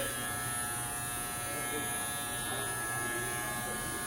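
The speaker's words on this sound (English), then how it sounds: "That's what good clippers should sound like." Old Andis T-Outliner hair clippers with a freshly sharpened blade run in a steady, close electric buzz with no rattling or squeaking, holding an even level throughout.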